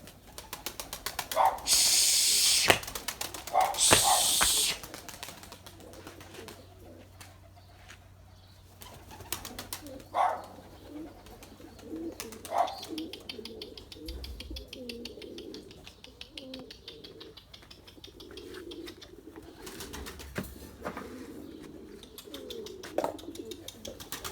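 Pigeons cooing in a flock outdoors, with a loud burst of wing flapping and bird sounds early on, then soft scattered calls over faint ambient noise.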